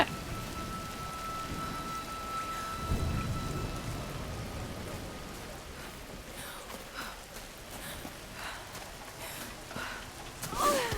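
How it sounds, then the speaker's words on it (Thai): Rain falls in the video game Tomb Raider as a steady, even hiss of drops on surfaces with a few soft thuds, moderately loud, with no talking. "ฝนตก ล้างคราบสิ่งสกปรกออกไปแล้ว"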